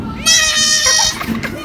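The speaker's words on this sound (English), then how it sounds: "Well, the goats know it's food time. Listen at them." A goat bleats loudly and close by at feeding time on a farm park, one long wavering cry, followed by softer animal noises.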